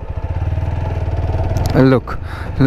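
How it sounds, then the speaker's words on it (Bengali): A TVS Apache RTR 160 4V single-disc motorcycle idles with a steady, close, rhythmic engine throb, and then a voice speaks briefly over it near the end. "আপনি ইঞ্জিন সাউন্ডটা শুনলে বুঝতে পারবেন যে বাইকটা অনেক পাওয়ারফুল"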